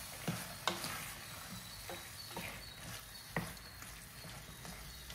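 Half a kilo of chicken sautéing in oil with softened tomato, a quiet continuous sizzle broken by a few light spatula knocks and scrapes, no one talking.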